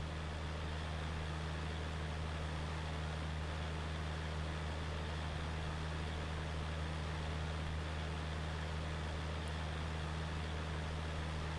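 In Farming Simulator 19, a tractor pulls a big baler, giving a constant, even engine drone with a steady low hum that holds unchanged throughout, with no voices.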